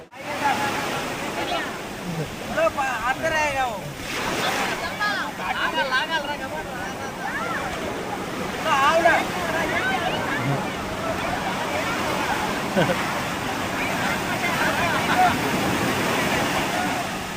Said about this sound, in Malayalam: ആ പാർച്ചൂട്ട് ആ വള്ളം വരുവാണ്, അതും കൂടെ കാണാൻ